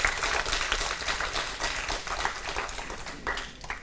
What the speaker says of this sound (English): Give a round of applause for the management of Jain University.